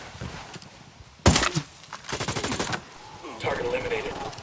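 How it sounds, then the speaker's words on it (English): Gunfire rings out in the video game Ghost Recon Wildlands, with a sharp loud shot followed by rapid bursts of firing and clattering, and voices talking underneath. "The fire rate on this sniper rifle isn't very good."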